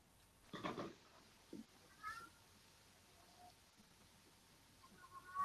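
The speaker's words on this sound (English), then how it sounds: "Can you hear the cat? She wants to go out" An indoor cat meows to be let outside, a few short, quiet meows spaced across a hushed room, with faint chirpy squeaks near the end.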